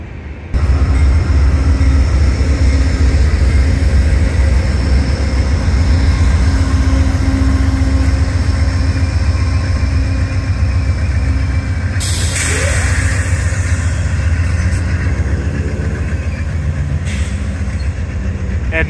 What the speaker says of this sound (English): that chugging from the GE locomotives